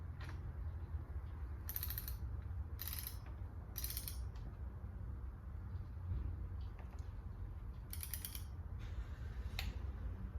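Ratchet wrench tightening bolts on a 1997 Mitsubishi Eclipse Spyder engine during a rebuild, several short bursts of rapid ratcheting clicks separated by pauses, over a low background hum.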